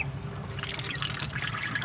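Water is poured into a container for Muscovy ducks, a continuous close trickling and splashing that holds steady for the whole stretch.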